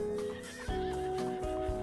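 A horse in the video game Red Dead Redemption 2 gives a loud, close whinny with a wavering, rising-and-falling pitch, accompanied by a couple of low snorts and hoof shuffles.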